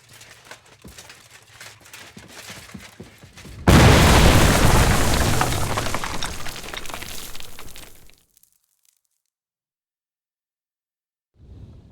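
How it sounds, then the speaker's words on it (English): A bomb goes off in Kingdom Come: Deliverance 2 as one sudden, loud, close explosion that roars for several seconds and then stops dead. Near-silence follows, and a voice comes in at the very end. "Damn, that was some bang."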